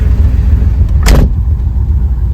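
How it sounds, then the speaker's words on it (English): A car door swings shut with one short, solid thump partway through, over a steady low rumble of an engine running nearby. "let me close this door"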